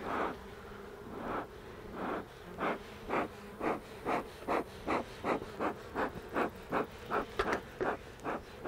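Honey bees buzzing around an open hive in late summer, agitated and defensive, a steady hum pulsing in regular waves as they swirl close by.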